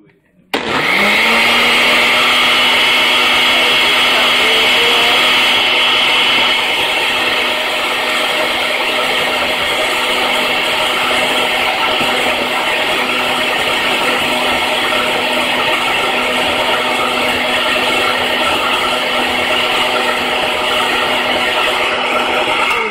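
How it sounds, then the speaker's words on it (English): A kitchen blender runs loud and continuous, whirring juice for over twenty seconds after a brief start-up, with a steady motor whine and rattle throughout. "So I'm going to blend the juice."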